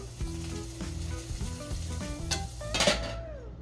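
Eggs fry in butter in a pan with a close, steady crackling sizzle, while a utensil taps and scrapes against the pan now and then.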